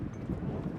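Strong wind buffets the microphone with a constant low rumble at an outdoor boys' high school tennis match, no other sounds standing out.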